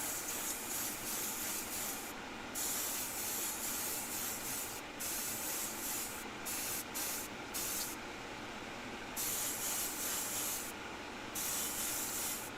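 An airbrush sprays a light dusting of Naples yellow paint in close, soft hissing bursts, with short pauses between passes.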